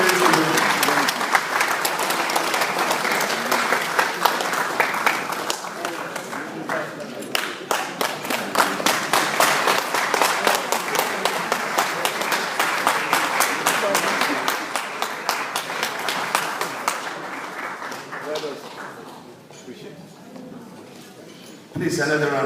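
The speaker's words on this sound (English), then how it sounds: "Please, another round of applause." An audience at the Nigerian Business & Investment Forum 2013 applauds, a dense, sustained clapping from a large crowd that swells then gradually thins toward the end, with a brief renewed burst at the close.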